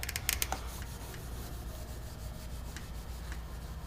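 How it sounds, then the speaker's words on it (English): A cloth rubbing over a truck door handle on a Silverado or Sierra while cleaning with Windex, a quiet continuous scrubbing friction with a few sharp taps near the start. "we're going to take a little Windex. Just clean this off a little bit."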